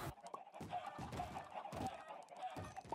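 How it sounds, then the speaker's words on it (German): Chickens clucking in a video game while being killed, a series of short faint clucks and squawks in uneven bursts, with no speech. "tötest du da gerade Hühner?"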